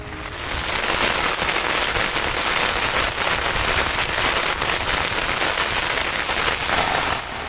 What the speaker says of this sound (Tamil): திருவள்ளூர், கள்ளக்குறிச்சி, ஈரோடு உள்ளிட்ட மாவட்டங்களில் பிற்பகலில் பெய்த மழை.